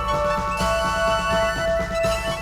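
Synthesized King's Quest IV game music played on a Roland MT-32 sound module, steady melodic tones and rhythmic percussion, loud and continuous with no voices.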